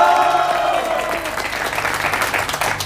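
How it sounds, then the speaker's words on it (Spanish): Studio audience clapping and cheering for a Miss Café Sin Censura finalist, starting with a raised vocal cheer, then settling into a dense, even patter of applause that stays loud throughout. "Aplausos para Fernanda."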